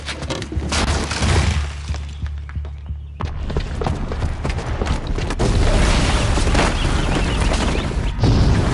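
A bomb booby trap detonates in Horizon Zero Dawn, a loud sustained roar of blast and shattering debris with a brief dip then renewed rumbling crashes, heavy and close.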